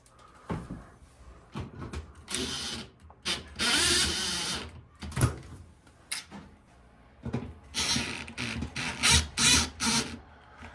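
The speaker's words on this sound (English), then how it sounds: "add your screws back in. Yeah, it's a longer screw." Screws are driven back into an Electrolux washing machine during reassembly, giving bursts of ratcheting, scraping mechanical noise and clunks of panel handling, close and fairly loud with pauses between.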